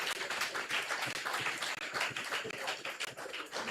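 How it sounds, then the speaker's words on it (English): A town hall audience applauds after a hurricane recovery meeting, producing dense, distant-sounding clapping that is fairly quiet and continuous for a few seconds. "Please give them a round of applause."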